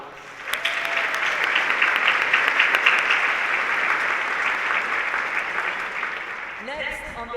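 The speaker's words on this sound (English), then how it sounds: "Let's now have another big round of applause for our sponsors." A conference audience at a nursing education summit's opening session applauds its sponsors: dense, sustained clapping that fills the hall for about seven seconds, easing slightly toward the end as a voice begins to speak.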